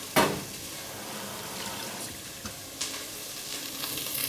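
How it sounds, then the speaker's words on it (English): Chopped quail carcass and bones sizzle in a hot pan, a sharp hiss as they go in, then a steady quiet frying crackle with a few small bursts of spitting. "So quail carcass goes in. You can hear again, nice hot pan for that."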